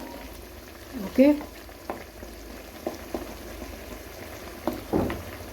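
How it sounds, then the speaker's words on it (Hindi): A spoon stirs chicken tikka karahi cooking in a pan of its own chicken and yogurt juices. A low sizzle runs underneath, broken by a few scattered scrapes, and a brief word is spoken. "अब इसमें हम थोड़ा सा चमचा हिलाएंगे।"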